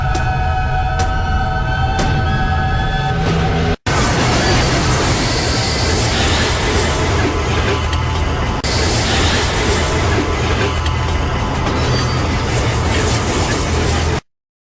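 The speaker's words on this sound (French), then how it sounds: "Les effets du train sont concentrés maintenant." Train sound effects in the stop-motion animated film Tutli Putli, a continuous loud rumble with rattling and metallic tones, briefly cut once before resuming until the end.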